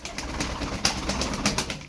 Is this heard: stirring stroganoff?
no